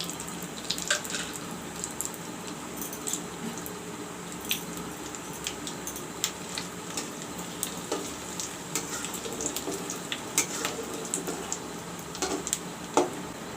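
Bay leaves, garam masala and cumin seeds sizzle in hot oil for a chicken curry, a steady close crackling fry scattered with sharp little pops throughout.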